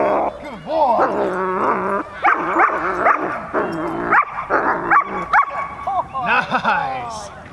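A seven-month-old dog, Amadeus vom Haus Audax, yips, whines and barks excitedly through a bite training session, with a handler talking over the noise and other dogs audible nearby.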